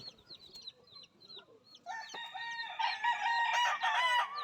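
A rooster crows loudly and close by, a long drawn-out call, after some quieter clucking and scattered bird sounds.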